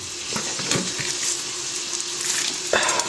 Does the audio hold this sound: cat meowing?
no